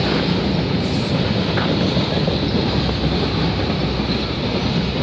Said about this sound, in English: So I'm thinking this has gotta be a 240 train, eh?